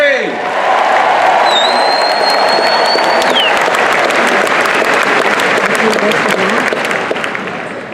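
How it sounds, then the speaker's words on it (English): Convention crowd at the 2018 Lions International Convention breaks into sustained, loud applause with cheers and whoops for the officers, swelling quickly and holding steady before tapering slightly, while an amplified voice carries over it. "How about another big warm round of applause for International Second Vice President, Cho"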